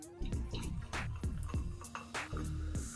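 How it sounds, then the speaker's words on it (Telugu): Soda poured over ice cubes in a glass fizzes and trickles in quick splashy bursts with faint clinks, close and fairly quiet, without talk. "ఇందులో సోడా వేసుకోవాలి."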